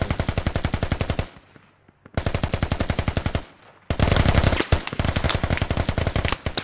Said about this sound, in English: We are taking some fire.